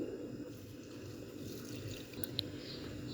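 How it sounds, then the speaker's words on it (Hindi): Water, about 1.5 litres, is poured into a cooking pot holding star anise, cinnamon, cloves and black peppercorns, making a soft, steady splashing pour that stays faint throughout. "पानी मैंने डाल दिया है तकरीबन"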